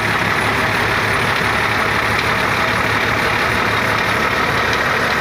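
A Mercedes-Benz OH 1518 bus from 2000 idles with its engine running, a loud, steady, dense rumble that stays constant throughout, close up and without speech.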